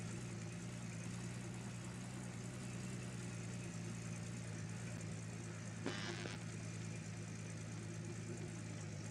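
Vehicle engine in Gold Rush: The Game driving with a steady, faint mid-low drone throughout and a brief clatter just past the middle.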